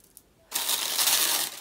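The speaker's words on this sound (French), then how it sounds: "Vais-je déchirer le papier de soie de façon délicate?" Tissue paper ripped open in a beauty gift box, a loud, continuous broadband tearing rustle that starts abruptly after a near-silent moment and runs to the end.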